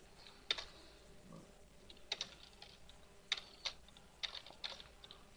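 Someone types code on a computer keyboard in irregular short bursts of clicky keystrokes with pauses between them, close and fairly quiet.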